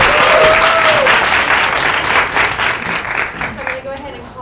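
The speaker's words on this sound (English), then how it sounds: "give a big round of applause for our debaters" An audience at a student communications studies debate showcase applauds the debaters with a loud burst of clapping that gradually thins out, while voices come through at the start and end.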